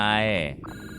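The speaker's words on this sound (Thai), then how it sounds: "เสียงโทรศัพท์นั้นคืออะไร" A telephone rings inside the horror video game Silenced. The ringing is loud and harmonic for about half a second, then it stops and quieter game sounds take over.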